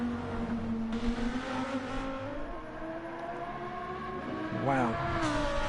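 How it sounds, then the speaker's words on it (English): Lamborghini Huracán GT3 race car in a racing video game, engine droning at high revs with gear-shift pitch changes and a sharp rev spike near the end, under a race commentator's talk. "Absolutely pushing that Lamborghini, really is, no doubt about that."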